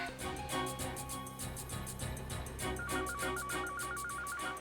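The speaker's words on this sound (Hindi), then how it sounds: "बेल बज रही है सर।" A telephone rings in a corridor in a CID Hindi crime drama episode. Its electronic ring pulses rapidly and repeatedly in the second half, moderately loud over a busy background score, with no speech.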